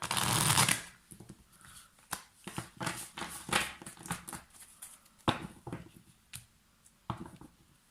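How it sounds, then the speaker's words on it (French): A deck of tarot cards is shuffled by hand up close, starting with a loud riffling burst followed by irregular papery slides, flicks and sharp snaps of cards being cut and rearranged. "on brasse les cartes déjà bien et on procède à l'étalement"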